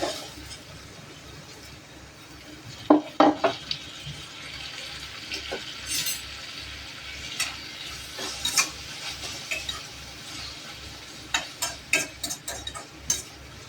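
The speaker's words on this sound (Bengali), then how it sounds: "তো আমার পেঁয়াজটা লাল হয়ে গেছে, এখন দিয়ে দিচ্ছি আমি টমেটোর কুচি।" Chopped tomato goes into a pan of onions fried until browned for paneer bhurji, bringing a steady close sizzle with a few sharp clatters of a spoon against the pan and no talking.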